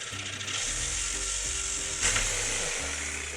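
A hand ratchet clicks rapidly and steadily up close while loosening a suspension bolt on a 1988 Toyota van, with brief pauses between runs of pawl clatter.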